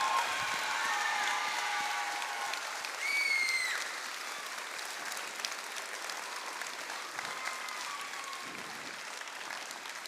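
Audience at a FIRST robotics district event breaks into a sustained round of applause with some cheering, a dense, steady wash of clapping heard from within a large arena crowd.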